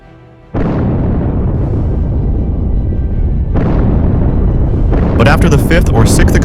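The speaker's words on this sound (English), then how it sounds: "A wave of bombs rains down on him from the sky, one after another without pause." Heavy bomb explosions from a drone attack on a Russian convoy: a sudden loud roaring blast that sustains, with a second burst and crackling impacts toward the end, continuous and overwhelming.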